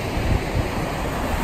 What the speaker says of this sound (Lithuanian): Tai atvarėme prie jūros.